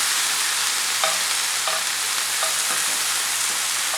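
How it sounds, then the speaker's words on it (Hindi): Chopped tomatoes fry in a pan, a steady broadband sizzle running throughout, punctuated by a few soft utensil clicks spaced about a second apart; no voices. "अब इसे इस तरह से फ्राई करेंगे"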